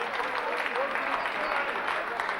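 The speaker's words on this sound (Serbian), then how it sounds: "Ajmo aplauz, ovo vredi" An audience at a 2003 awards ceremony in Sombor claps in a dense, continuous wash of applause, steady and fairly distant throughout.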